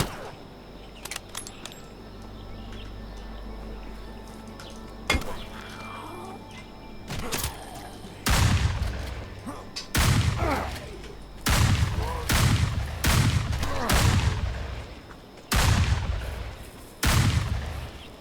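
Repeated loud gunshots fired in the HumanitZ zombie survival video game, sharp broadband cracks arriving singly every second or two, close and punchy over a low ambient game background with no talking.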